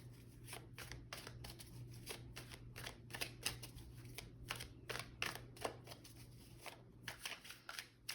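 Pick-a-card reading cards handled and shuffled in repeated soft riffling bursts, close but quiet, over a low steady hum, with no voices.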